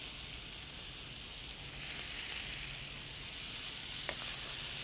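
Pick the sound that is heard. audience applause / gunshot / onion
onion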